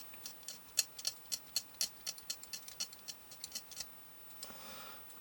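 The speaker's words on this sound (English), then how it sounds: "I'm just going to get close to the bottom of the toroid with my knife, just to start that" A knife scraping enamel off a toroid winding wire: a rapid series of faint, short scratching ticks in an uneven rhythm, ending in a softer, drawn-out rasp.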